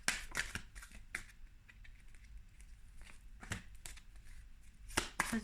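Tarot cards drawn from a deck one after another, giving crisp papery slaps and shuffling flicks at irregular intervals, close to the microphone with no voice over them.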